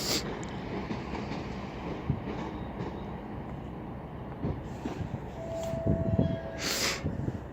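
Class 153 diesel railcar 153383, in Ecclesbourne Valley Railway 150 years livery, rumbling through Crewe station with a steady low drone, a faint clatter of wheels and a brief high squeal near the end.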